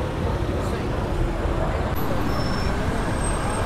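Steady, loud roadway noise fills a Cape Town street as a hired car arrives, a dense continuous roar of engines and traffic with no distinct breaks.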